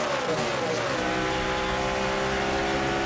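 NASCAR Nationwide race cars roar past at Phoenix in 2011, a loud, continuous engine drone whose pitch sweeps downward as the cars go by.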